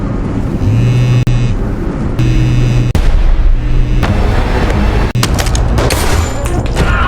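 Gunfire in a film scene: loud, dense booming blasts and explosive cracks over a rumbling background, close and heavy, with a few sharp breaks and a clattering burst near the end.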